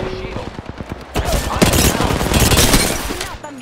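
Video game Apex Legends gunfire: rapid bursts of automatic shots rattle close and loud, building into a dense, sustained fusillade with booming impacts through the middle and tapering near the end.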